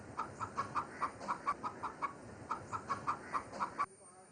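A hen clucks in a steady, repeated series of short, evenly spaced calls, close and moderately quiet, then falls silent at the end.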